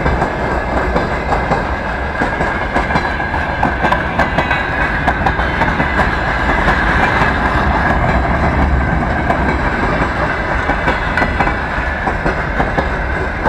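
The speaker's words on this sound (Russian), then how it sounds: "Вон вагоны нескончаемо," Freight wagons roll past close by in a loud, continuous rumble with rhythmic clicking of wheels over rail joints, never letting up.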